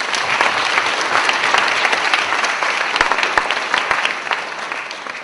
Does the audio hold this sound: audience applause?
yes